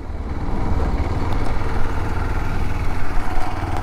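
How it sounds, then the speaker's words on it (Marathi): A motorcycle engine idles close by with a loud, steady low chugging throb and an even pulsing rhythm. The sound runs on its own without any talking. "तर ही आहे आपली बाईक"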